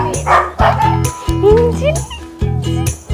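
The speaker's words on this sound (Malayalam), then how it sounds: "ഇവിടെ കൊറേ പട്ടികളുണ്ട് കേട്ടാ." Several dogs, including a cute puppy, bark and yip in short bursts close by, with whimpering squeals between the barks and no talking.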